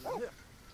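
A single short dog bark or yelp from a pet in The Sims 4, brief and fairly faint, followed by quiet.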